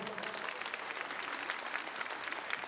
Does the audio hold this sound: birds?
no